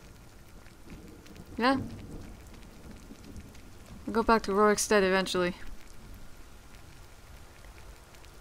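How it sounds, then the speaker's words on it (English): Steady rainfall and rumbling thunder fill a Skyrim game scene, a constant hiss running under two brief bursts of someone talking. "I don't want to run back all that way in the rain. And the thunder."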